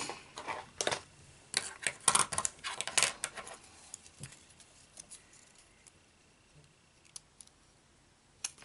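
Scissors snipping the end off a folded paper rosette, a cluster of quiet, close crisp clicks and cuts that thin out into occasional faint taps.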